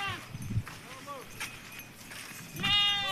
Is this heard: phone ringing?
no